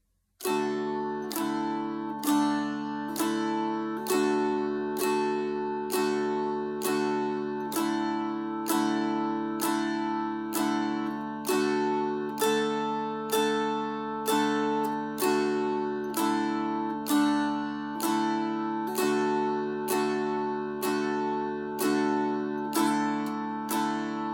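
A mountain dulcimer strummed steadily in an even rhythm, each bright stroke ringing over a sustained drone, close and alone for the whole stretch.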